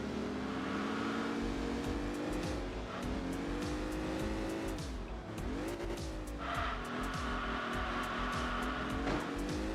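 A mid-engine sports car of about 150–160 horsepower with a 2-liter engine in Enthusia Professional Racing, its engine droning steadily and rising and falling in pitch through gear changes, with tires squealing as it corners.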